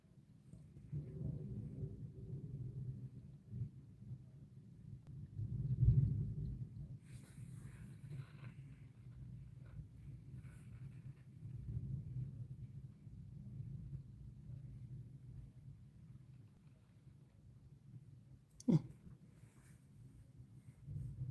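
Low thunder rumbles through a night lightning storm, a long distant roll that swells and fades, with a sharper crack near the end against a quiet background.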